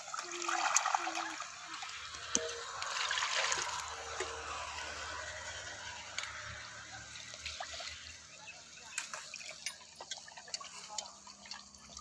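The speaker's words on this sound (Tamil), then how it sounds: "அடுத்து புளியை கழுவிக்கணும்." Tamarind being rinsed in water in a home kitchen while making vathal kuzhambu, with soft trickling, sloshing and dripping, a few light clinks and taps, close and fairly quiet.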